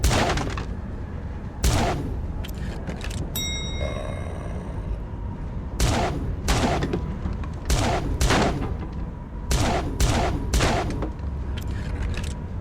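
Gunfire in a shooter video game, bursts of sharp shots aimed at demon targets' weak points, landing in an uneven run of separate blasts with a brief musical chime between, loud and close, with no voices.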